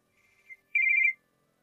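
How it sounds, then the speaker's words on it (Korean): A single short telephone ring: a faint electronic trill followed by a louder warbling burst, alone in near silence. "다음날 전화."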